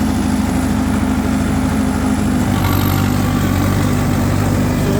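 A Mahindra 585 XP Plus turbo tractor engine with about 320 hours of use runs steadily at close range, a continuous low, throbbing drone that shifts slightly in pitch partway through.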